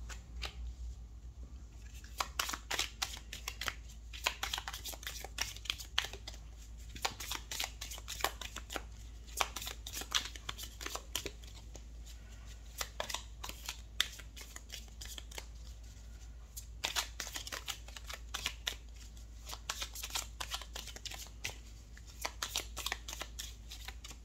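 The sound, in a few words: shuffling tarot cards for a reading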